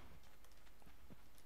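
Donkeys walking in the Minecraft video game give a faint, quiet clip-clop of hooves, a few soft steps spread through the short stretch with no talk over them.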